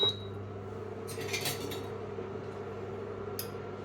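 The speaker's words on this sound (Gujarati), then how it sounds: "આપણે સ્ટવને સ્ટાર્ટ કરશું અને તેની પર આ તપેલીને મૂકી દઈશું" A pot set onto a kitchen stove, a few soft metallic clatters and a brief scrape over a steady low hum, close and fairly quiet.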